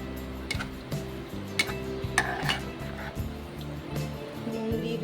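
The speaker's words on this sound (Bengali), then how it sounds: "যে ডালটা সেদ্ধ করেছিলাম সেটাকে দিয়ে দিলাম, দিয়ে একটুখানি মিক্স করব" Boiled lentils stirred into fried spices in a cooking pot, with a spoon scraping and clinking against the pot in an irregular rhythm, close and moderately loud, with no talking.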